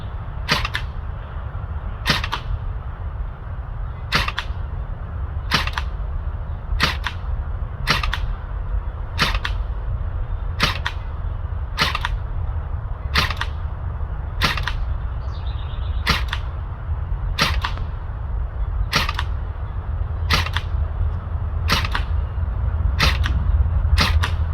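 A battery-powered airsoft G18 replica pistol fires single shots at a target: about eighteen sharp, close snaps spaced roughly a second apart over a steady low background hum, with no talking.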